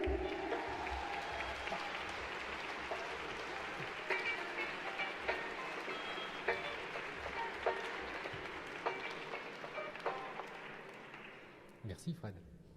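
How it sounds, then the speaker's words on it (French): An audience at the official opening of a national popular-education conference applauds a speaker, sustained dense clapping that gradually thins and fades, followed by a few isolated claps and a voice at the end. "merci d'accueillir sous un tonnerre d'applaudissements Arnaud Tiersenet."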